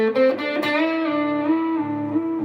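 A sustained electric guitar note bends up and wavers in pitch, wobbling unsteadily as it rings out alone with a slightly gritty tone.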